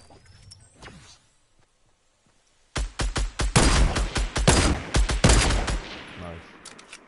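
Gunfire in the video game Fortnite: after a quiet opening, loud rapid bursts of shots break out midway and continue in close, repeated volleys.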